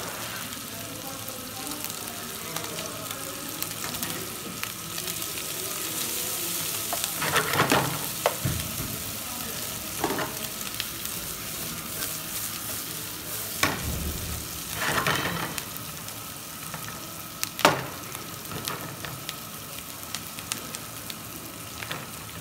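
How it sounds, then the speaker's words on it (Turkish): Green peppers and garlic sizzle and fry in a saç pan, a steady crackling hiss throughout with several louder bursts of stirring and spitting oil, close and without talk. "Hafif sarımsak kokusu geldikten sonra yeşil biberimizi takip ediyoruz."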